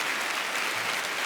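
Audience applause at a live comedy show in Montreux as volunteers come up on stage, a dense, steady wash of clapping from a large crowd, loud and sustained.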